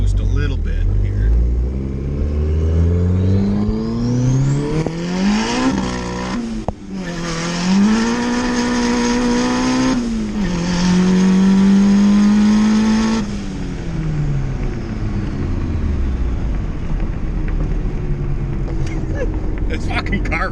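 A red turbocharged Honda Civic accelerates hard from inside the cabin, its engine roaring up through the gears with rising pitch, shift dips and turbo whine, loud and continuous for about twenty seconds.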